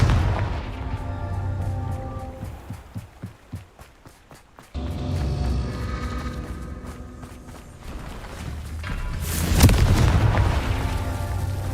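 Confringo fire-spell blasts in the video game Hogwarts Legacy, with light rhythmic footstep-like thuds giving way to heavy booming explosions and a loud, rumbling burst near the end, no talk.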